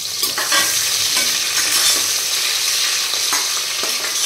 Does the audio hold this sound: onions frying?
yes